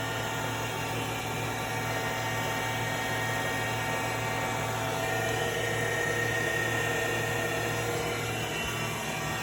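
Tormach CNC mill spindle running steadily in a workshop, a continuous whining motor hum with a constant high-pitched tone over broadband noise, fairly near and unchanging throughout.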